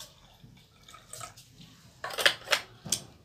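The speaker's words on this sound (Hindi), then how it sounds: "इक्वल क्वांटिटी में पानी मिला लेते हैं।" Water is poured into drinking glasses for a soap demonstration, giving faint trickles that build into a few louder splashy bursts toward the end.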